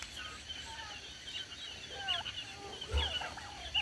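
Farmyard chickens and turkeys call in short, scattered clucks and gobbling bursts at moderate distance, with a louder thump near the end over steady outdoor background noise.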